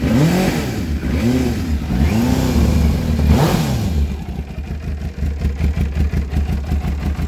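An MV Agusta F4 S Tamburini motorcycle, unused for about six months, cranks and fires, its engine revving in rising and falling swells before settling into a fast, rough, pulsing idle; loud and close, with no talking.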